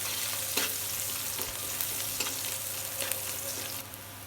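Cinnamon, cloves, cardamom, bay leaves, onion and crushed garlic fry in hot oil with a steady, close sizzle, broken by a few sharp crackles and stirring clicks throughout.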